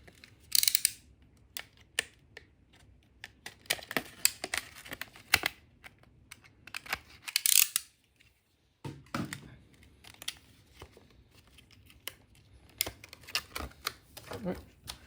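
A small cutter slices the plastic shrink wrap off a Godzilla-themed UniVersus card game deck, making faint scratchy crinkles and taps in short bursts while a person talks nearby.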